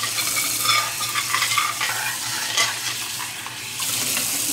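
A frying pan is rinsed and scrubbed, with running water and splashing that rise and fall over a few seconds, plus an occasional light clink of the pan, heard alone and close.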